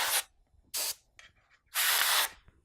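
An airbrush sprays paint onto custom Converse sneakers in three sharp hissing bursts, two short and one longer, close up, with quiet gaps between.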